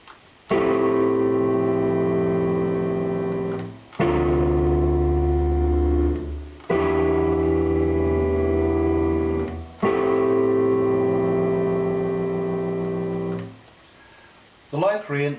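Tetrachords of the Aeolian scale played as four sustained, harmonically rich tonal phrases in a row, each held for a few seconds with brief gaps between, clean and close with no talking.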